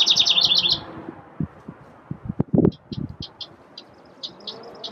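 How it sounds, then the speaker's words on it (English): A wren gives rapid, high chirping trills, first a fast burst then scattered calls, against faint background clatter. "It's this little bird, and it's making so much noise."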